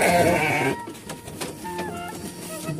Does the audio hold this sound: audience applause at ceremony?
no